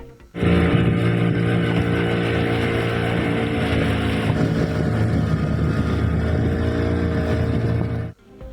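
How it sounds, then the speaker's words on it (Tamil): A motorboat engine drones loud and steady during a tourist boat ride through the Pichavaram mangrove forest, a sustained rumbling hum that starts abruptly and cuts off near the end. "சுற்றுலா பயணிகள் அலையாத்தி காடுகள் நடுவே படகு சவாரி செய்து மகிழ்ந்தனர்"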